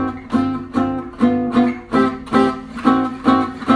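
A gypsy jazz acoustic guitar plays a simple intro, strummed chords struck in a steady, rhythmic pulse of about two strokes per second, loud and alone.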